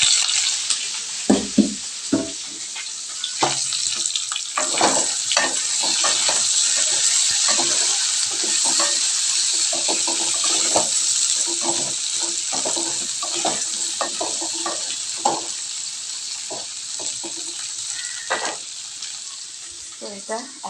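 Chopped summer vegetables sizzle and fry steadily in a pan, with scattered clinks and scrapes of stirring over a continuous hiss, close and fairly loud.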